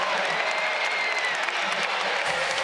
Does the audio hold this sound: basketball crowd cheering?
yes